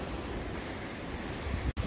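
Ocean waves wash steadily against a harbor breakwater on a windy coast, a continuous broad rush of surf with wind noise and a sharp bump near the end.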